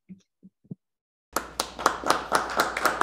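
A small audience at a talk on Américo Castro breaks into clapping after a brief lull with a few faint voice sounds, the applause rising to a steady, moderately loud patter.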